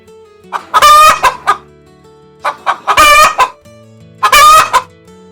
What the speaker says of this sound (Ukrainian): Це курка.